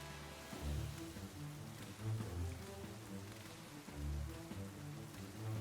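Steady rain pours from a rain move in the video game Pokémon Scarlet, a dense hiss running throughout the clip over low in-game music.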